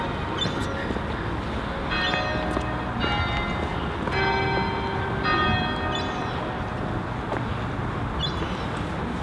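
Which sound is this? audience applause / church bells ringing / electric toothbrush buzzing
church bells ringing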